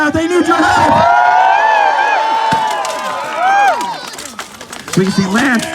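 A crowd cheers at an armored combat fight, with loud whoops, yells and shrill rising whistles that swell and fall close by, while an announcer speaks over the noise.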